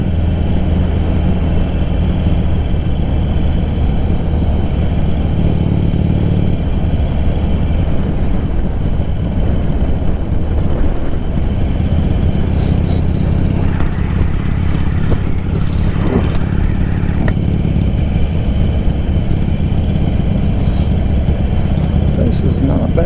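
A motorcycle cruises along a German countryside road in the Black Forest, with a steady engine drone and wind rumble throughout and a voice talking over it.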